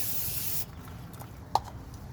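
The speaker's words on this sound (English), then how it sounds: "And give it a spray down." A short blast of aerosol spray onto a Toyota Tacoma front brake hisses up close for about half a second, then stops, leaving quiet with a faint click.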